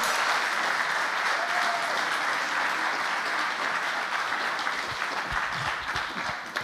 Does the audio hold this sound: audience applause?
yes